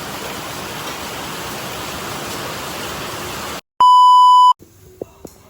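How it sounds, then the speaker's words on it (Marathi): A dense, steady roar of heavy rain, then it cuts off into a sustained electronic beep followed by a few faint clicks. "किती मोठा पाऊस आलाय"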